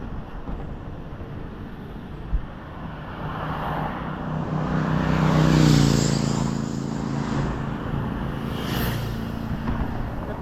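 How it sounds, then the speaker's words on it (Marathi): Motorbike riders pass along a road in Punjab, engine roar swelling to a loud peak midway then fading as they move off, over steady traffic rumble. "पहा मित्रांनो, मस्तपैकी रायडर गेले आता राईड करत"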